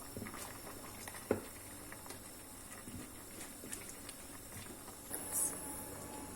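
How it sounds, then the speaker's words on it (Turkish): A pot of pickle sauce with peppers and cucumbers simmers at a steady low bubble, faint and close, with a few soft pops and clinks breaking through the quiet patter. "Kaynatmaya devam ediyoruz. Suyunu çekene kadar kaynatacağız."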